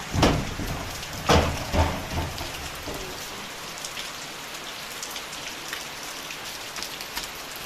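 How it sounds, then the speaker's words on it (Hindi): Heavy rain pours steadily in a dense hiss, with a few louder splashing bursts near the start and no voices. "और बहुत तेज बारिश हो रही है"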